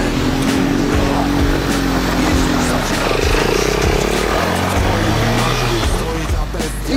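A Kayo 150 pit bike engine runs close and continuously on steady throttle with the handlebar turned, its droning note rising and dipping slightly in pitch without cutting out.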